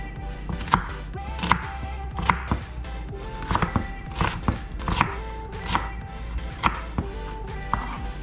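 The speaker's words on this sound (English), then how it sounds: "let's start with our onions first" A knife chops onions on a cutting board, giving about a dozen crisp, close knocks in a steady rhythm, with no talking.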